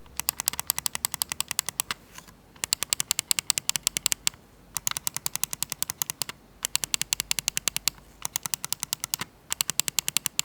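Rapid bursts of sharp, crisp clicks from Bloody R72 Pro Duo mouse buttons in quick runs, separated by short pauses, close and clear with no voices.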